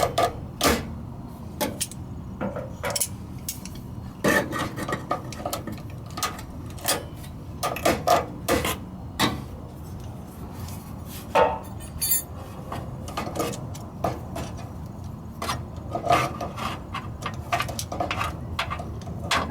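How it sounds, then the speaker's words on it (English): Vice grips work loose the hose clamps on a fuel line under a 1997-2004 Ford F150, giving repeated sharp metallic clicks and snaps close by over a low background hum, with no talking. "You can use your vice grips to remove these clamps."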